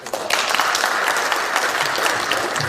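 An audience claps to thank a professor after his talk on increasing the number of Supreme Court justices: dense, steady applause that fills the whole stretch, with no voices on top.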